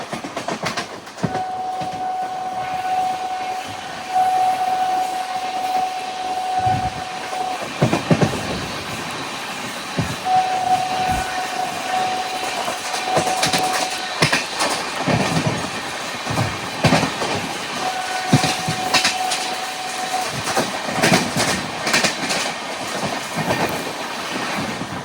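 Nonstop special train running fast on rails while overtaking an express, with continuous rolling rumble, rattling wheel clatter and intermittent steady tonal hum or squeal recurring through the run, heard from on board.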